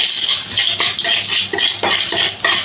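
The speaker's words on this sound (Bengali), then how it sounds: "ফোড়ন দিলাম" Whole cumin seeds tempering in hot oil for Bengali begun bahar, a steady bright sizzle and crackle with a few stirring scrapes against the pan, close and loud, with no voices.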